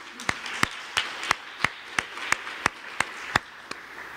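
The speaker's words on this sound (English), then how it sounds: "Dr. Hood, let's give her a round of applause." Applause at a faculty achievement award ceremony, heard as a steady run of sharp, evenly spaced claps about three per second over a soft, diffuse room wash.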